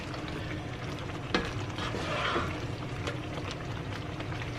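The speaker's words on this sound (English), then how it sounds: "just hopping on here to give it a little stir" A spoon stirs sausage and bowtie pasta simmering together in a single pot, with a low steady bubbling and sizzle beneath a few soft scraping strokes, close and fairly quiet, no voices.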